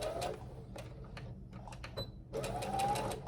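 A sewing machine stitches fabric for a boxy pouch in close, rapid mechanical bursts. The stitching pauses briefly with a few clicks while the fabric is lifted and turned, then runs again.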